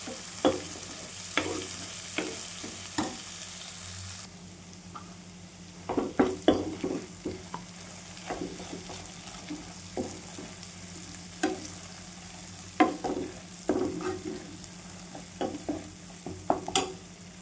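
Masala frying in oil in a pan for an onion bhaji dish, with repeated stirring scrapes and a steady soft sizzle close up, no talking.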